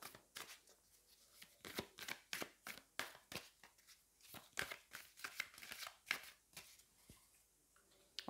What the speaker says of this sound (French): Allez, on va aller prendre une carte.